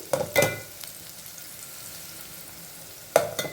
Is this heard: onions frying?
yes